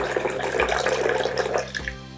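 Water poured into a grinder jar of soaked almonds, about two cups for 50 grams of nuts, ready for grinding into almond milk; a steady, close splashing rush that runs unbroken for a couple of seconds.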